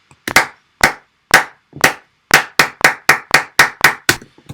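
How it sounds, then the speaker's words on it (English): Sampled hand claps repeating against a metronome, slightly off the beat: about a dozen sharp, isolated claps, sparse at first, then a quicker steady run, loud and dry with no talking. "If you compare the claps to the metronome, you can hear it's not quite on the metronome"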